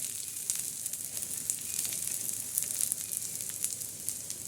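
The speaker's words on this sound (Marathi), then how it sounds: "चांगला असा लालसर चॉकलेटी मसाला भाजून घ्यायचा" Masala for stuffed bitter gourd roasts in a pan, a steady close sizzle with crackling pops scattered throughout and no voices.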